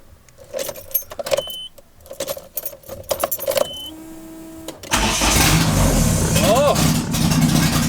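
Keys jangle and click near a Nissan 240SX with a forged engine, then the starter cranks and the engine fires for the first time, settling into a loud, rough idle; someone talks briefly before the start.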